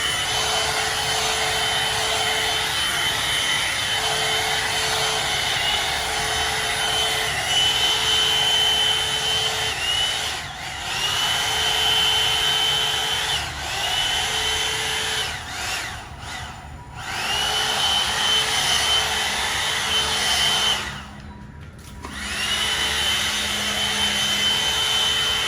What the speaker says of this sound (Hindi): This is my favourite hair dryer.